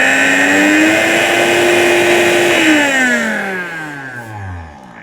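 A powerful Miyako heavy-duty commercial blender whirs loudly at high speed, then its motor pitch drops steadily as it winds down.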